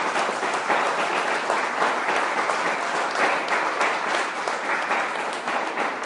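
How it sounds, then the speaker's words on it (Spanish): Sustained applause from a church congregation during a Spanish-language sermon, dense and steady throughout with a broad, even wash of clapping and no voices over it. "Den un aplauso al Rey de Reyes."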